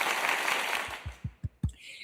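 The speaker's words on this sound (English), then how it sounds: "I want to give her a round of applause." A round of applause during a live online talk show, a dense wash of clapping filling the first second before thinning into a few separate, louder claps toward the end.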